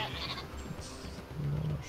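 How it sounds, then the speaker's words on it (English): Sheep in the strategy game Northgard bleating briefly amid game ambience, a faint call near the start and a clearer, sustained bleat toward the end. "Sheeps here."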